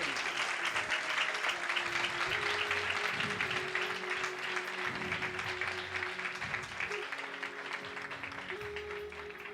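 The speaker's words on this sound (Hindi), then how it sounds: "आइए जोरदार ताली 2023 करिए।" A church congregation applauds loudly during a New Year sermon, dense clapping filling the room continuously with a faint sustained musical tone underneath.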